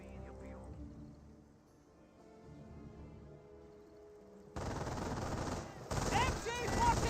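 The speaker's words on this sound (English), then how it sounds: "MG42 finds another engagement there." MG42 machine gun fire in Company of Heroes arrives as sharp, loud rattling bursts in the second half. Before that there is a quieter stretch of game ambience and sound effects.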